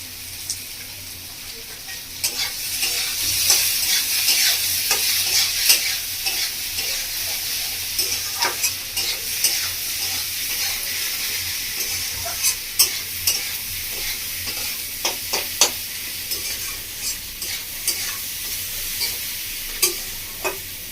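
Chicken and soya chunks fry in a pan for a village-style chicken kosha, a steady sizzle broken by sharp scraping and clicking strokes as the mixture is stirred.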